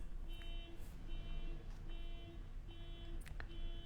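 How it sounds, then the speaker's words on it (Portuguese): A car alarm goes off at a distance, steady repeating electronic tones that sit faintly in the background of a quiet room. "O alarme de alguém tá tocando."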